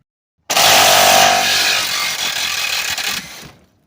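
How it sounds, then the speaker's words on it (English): A Craftsman half-inch cordless impact wrench running on a 4 amp-hour battery hammers at a stuck 14 mm exhaust bolt on a 2004 Mazda MPV, a loud, close, buzzing burst lasting about three seconds before cutting off. "Let's try it with a 1/2-inch Craftsman."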